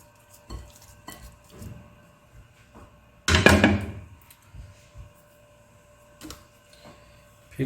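Raw chicken leg pieces for tikka go into a bowl for marinating: scattered soft clinks and handling knocks, then one louder wet clattering thud, close and otherwise quiet.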